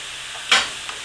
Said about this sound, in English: I'm just trying to break it apart so it'll cook well. And I want to mix the chorizo in with the rest